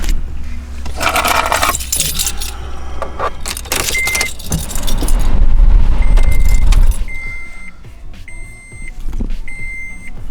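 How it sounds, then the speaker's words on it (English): Keys jangle and scrape nearby, then a car engine cranks and catches with a deep rumble, settling into an idle as chimes beep repeatedly. "Let's fire up the car."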